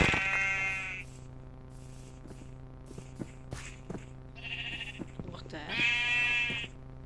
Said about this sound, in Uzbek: bu yerda qo'ylar bor, qo'ylarni tarqatamiz.